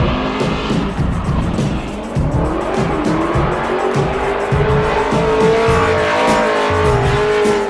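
A Chevrolet Camaro revs hard with loud, screeching tire squeal at a Camaro festival, the engine pitch climbing under a continuous squeal, close and loud throughout.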